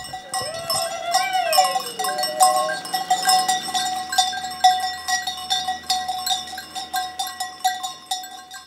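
Sheep grazing on a farm to keep the scrub down, with ringing cowbell-like bells clanking in a busy, uneven rhythm and a few bleats near the start, fairly close and clear.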